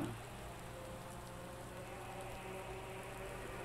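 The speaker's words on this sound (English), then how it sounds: "it's the rain again" Steady rain hisses in the Project Cars 2 racing game, a dense even wash of droplets with a faint engine murmur underneath, continuous and without voices.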